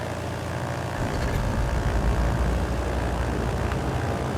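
The starboard engine of a Trislander in Microsoft Flight Simulator 2020 cranks and catches, a loud, rough propeller drone swelling up after about a second and holding steady.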